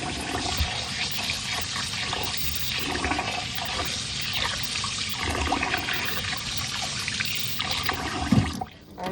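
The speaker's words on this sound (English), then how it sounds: "this is a pound of rice, so we just have to wash it until the water runs clear" Running water pours and churns steadily over a pound of rice being washed until the water runs clear, a continuous loud rush that cuts off abruptly near the end.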